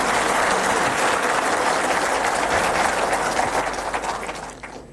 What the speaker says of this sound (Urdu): خصوصی طور پر محترمہ سائمہ جن کے لیے بہت زوردار تالیاں لگیں